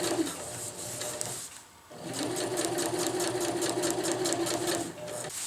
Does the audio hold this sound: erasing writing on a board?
no